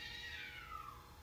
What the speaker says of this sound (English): Cats are having a fight.